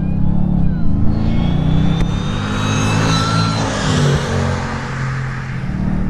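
A 615 hp RennTech Stage 6 Mercedes SL55 with a front-mounted V8 idles and creeps along at low speed, its deep engine burble loud and near, rising slightly as it turns before settling back.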